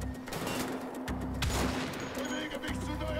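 Gunfire from the video game Wolfenstein: The Old Blood rattles out in quick bursts of shots, fairly quiet and mixed with game sounds, with someone talking over the action.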